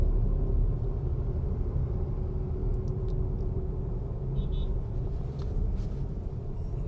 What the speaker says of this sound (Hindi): वापस रेस दे के स्पीड बढ़ा रहा हूँ, 25 से 30 के बीच